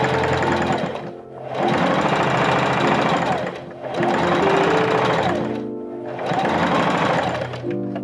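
A sewing machine stitches along the seam allowance of a 1903-style trumpet skirt, running in three long steady bursts with brief pauses between them, loud and close with no talking.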